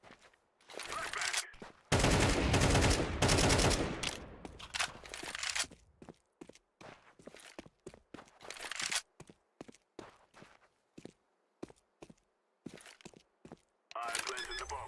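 Rapid automatic gunfire bursts and single shots in Counter-Strike, loud and close, coming in short choppy volleys with gaps between, with a player's voice talking intermittently.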